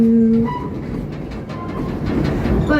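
A Busch Gardens Tampa Bay park train rolls steadily along its rails, a continuous rumbling with faint rhythmic clatter and a brief tonal squeal or horn-like note at the start and end.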